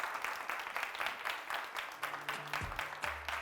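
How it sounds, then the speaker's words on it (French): A studio audience on a TV show applauds steadily for a guest, with dense, even clapping throughout and a faint low hum beneath it. "Je vais vous demander de faire beaucoup d'applaudissements pour Françoise Sedgo."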